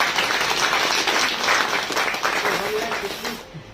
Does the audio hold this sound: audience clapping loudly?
yes